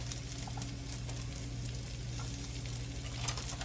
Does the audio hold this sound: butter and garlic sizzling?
yes